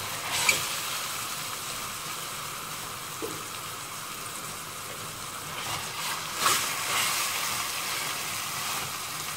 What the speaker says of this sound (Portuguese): Vou colocar o arroz pra dar uma douradinha.